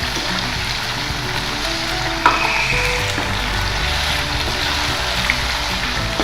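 Meat and potatoes frying in a pot for degi aloo gosht, a steady loud sizzle with occasional stirring clatter, heard up close and continuous.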